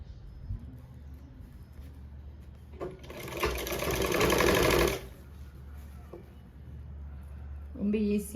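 Sewing machine stitching piping onto a jacket, a close, steady whirring run of about two seconds between quieter handling sounds, with a brief restart at the end.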